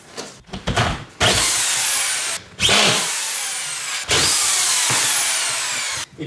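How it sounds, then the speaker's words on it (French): Cordless power screwdriver driving screws through a drywall finishing trim rail, with short starts followed by three long, steady whirring runs, close and loud. "Et ben je vais visser."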